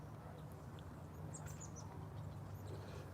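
Small birds chatter faintly with a few scattered high chirps over a low, quiet background hum.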